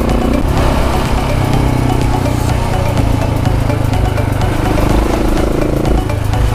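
KTM 690 Enduro R single-cylinder motorcycle engine on the move, a loud, steady, rough throbbing drone with wind rush, heard close from the rider's position throughout.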